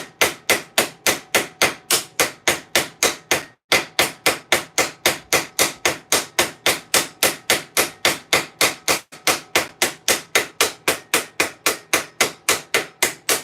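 Small ball peen hammer riveting out rivets on steel half gauntlets, a fast steady train of sharp metallic strikes, close and loud, with two brief pauses.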